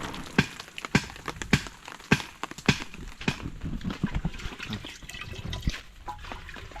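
Water being poured out outdoors during heavy rain, a continuous splashing and trickling with irregular louder sloshes, close and fairly loud.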